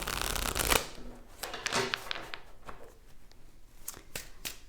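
A deck of tarot cards is shuffled close up: a loud riffling burst, then a run of softer, irregular slaps and flicks as the cards are handled.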